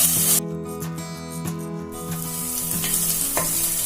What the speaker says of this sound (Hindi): प्याज और इस पेस्ट को हमें तब तक भून लेना है जब तक कि प्याज की और